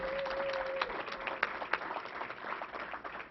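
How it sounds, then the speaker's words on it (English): Applause from a small audience at a New York governor's news briefing, a moderate, fairly quiet patter of clapping with a few sharper claps standing out and a steady tone at the start. "We have to give him a round of applause."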